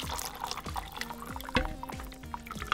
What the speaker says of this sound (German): Jetzt kommt erstmal das Wasser dazu.